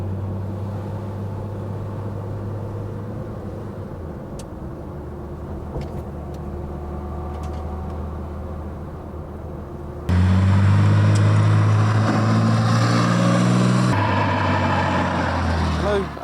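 1972 Porsche 911T on the road, a steady engine drone under cabin noise that jumps suddenly louder and rougher partway through as the car accelerates.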